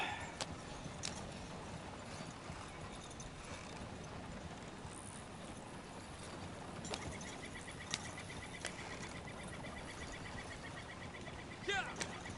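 Steady clip-clop of horse hooves at a gallop in the video game Red Dead Redemption 2, a continuous rhythmic drumming with faint bird-like chirps and occasional sharp clicks over it.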